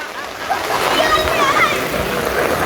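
Strong floodwater current rushes and splashes along a street in Digha during very heavy rain, a loud, continuous churning wash with voices in the background.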